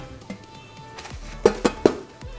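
A thick stainless steel air fryer oven heating pan being unpacked from styrofoam, sounding as a few sharp metallic clanks and light knocks close by, with no talking.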